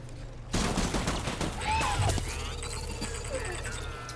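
Sustained gunfire in the Death Stranding video game, a dense fusillade of overlapping shots running steadily from just after the start, loud and busy with game effects layered over it.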